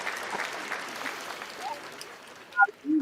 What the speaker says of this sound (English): So Luana, you get the soul clap for the afternoon